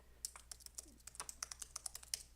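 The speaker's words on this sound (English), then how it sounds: "I think it's probably easier to just type" Rapid, irregular keystrokes on a computer keyboard, soft and close, about a dozen light clicks in quick succession with no voices.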